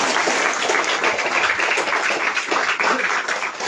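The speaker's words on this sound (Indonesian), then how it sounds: "Tepuk tangan dulu." A gathering marking Heroes' Day with a flower-scattering ceremony breaks into applause, a brisk continuous patter of many hands clapping at close, fairly loud level without speech.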